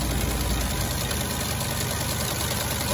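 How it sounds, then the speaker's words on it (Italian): A Mercedes A150 engine idles in a steady, low, even hum with a faint constant vibration, heard close and alone for three seconds. "Motore silenzioso, perfettamente in linea."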